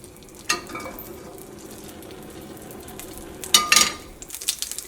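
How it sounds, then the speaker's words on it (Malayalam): Mustard seeds pop and fry in hot oil in a clay pot for a fish curry, with a low sizzle and sharp crackling bursts, loudest near the end. "നമ്മുടെ കടുക് പൊട്ടിയിട്ടുണ്ട്."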